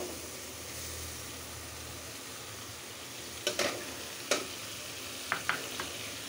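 Potato and eggplant pieces fry in a pan with a low, steady sizzle, broken by a few sharp clinks of a spoon or spatula stirring the vegetables.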